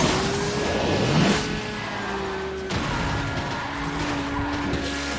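Car drifting in the racing game Asphalt, with a sustained tire squeal and engine whine that swell near the start, then cut off abruptly and give way to steadier engine tone.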